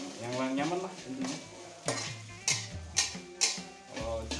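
Spatula scraping and stirring fried rice in a pan, with a soft sizzle under it and several sharp metallic clacks of the spatula hitting the pan, close and rhythmic near the end.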